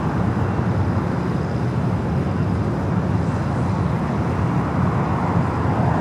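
An Air China Boeing airliner taxis at LAX, its jet engines giving a steady, broad rumbling roar at moderate distance that holds constant without rising or fading.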